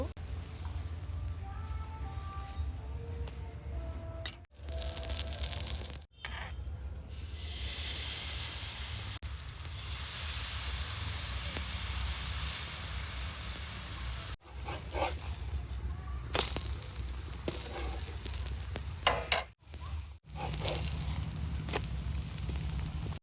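Aloo paratha sizzles in a spoonful of oil in a frying pan, a steady soft hiss that runs throughout with a few brief breaks, heard close up and fairly quiet.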